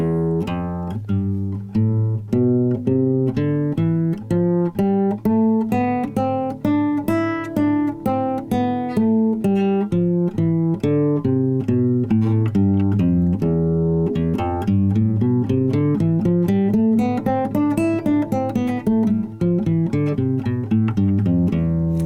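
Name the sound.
guitar playing E Phrygian scale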